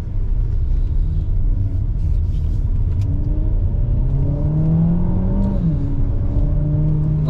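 A Renault Talisman 1.6 TCE with a stage 1 tune drives along a road, its engine drone and road rumble steady inside the cabin as revs climb through a gear and settle again.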